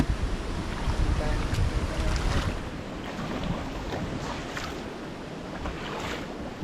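A strong river rushes in a continuous loud roar with broadband wash and some wind buffeting on the microphone, no clear speech over it.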